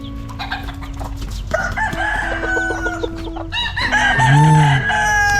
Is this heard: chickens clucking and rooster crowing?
yes